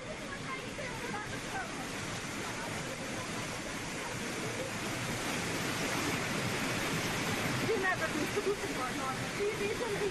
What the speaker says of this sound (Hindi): पानी का ये तेज बहाव मानो अपने रास्ते में जो आए उसे बहा ले जाए।